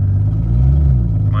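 A turbocharged BMW E46 with a forged S52 engine rumbles loudly up close, its low engine note swelling and easing briefly while a voice speaks over it.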